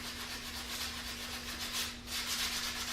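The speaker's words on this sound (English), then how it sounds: "I actually sand like this for quite a bit, and eventually my fingers get numb." A wooden stick being sanded by hand with steady back-and-forth rubbing strokes, a continuous close, even scratching that swells and dips with each pass, with a faint steady hum beneath and no talking.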